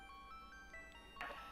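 A telephone rings on a call placed to a phone number, a string of short electronic ringtone notes, clear and steady, followed by a brighter burst near the end with no talking.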